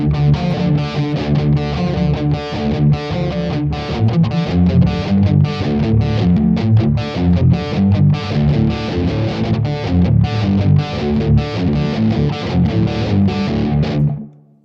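An electric guitar runs through a Marshall amp with heavy distortion, playing loud, continuous chugging riffs with rapid picked notes for about fourteen seconds before ringing off.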